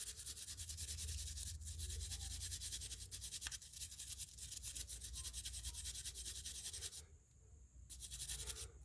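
Scrubbing of a Honda CR-V rear brake caliper bracket where the pad hardware sits, steady close rubbing and scraping strokes running continuously with a brief pause near the end, no voices.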